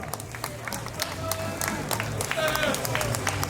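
Crowd applause for a Polish band at their 40th-anniversary stage concert in Wołów, steady clapping and cheering filling the air with a low musical hum beneath.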